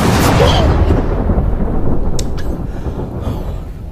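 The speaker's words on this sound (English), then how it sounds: "I just heard thunder." Thunder rumbles loudly during carpet cleaning work on a severely dog-stained carpet, a deep rolling boom that swells and slowly fades over several seconds with sharp crackles midway, no talk over it.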